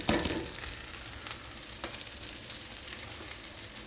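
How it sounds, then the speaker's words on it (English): Cabbage sizzling and frying in a hot pan, a steady crackling hiss with a louder burst at the start as it hits the pan, quiet and without talk. "Now then, we're going to add our cabbage"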